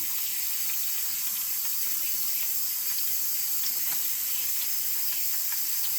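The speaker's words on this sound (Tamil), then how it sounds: "பார்த்திங்கன்னா ஆயில் ஹீட் ஆகிடுச்சு. இப்போ வந்து பூண்டும் இஞ்சியும் போட்டுக்கலாம்." Garlic and ginger dropped into hot oil for vegetable fried rice, a loud, continuous close sizzle with faint crackles throughout, with no talking.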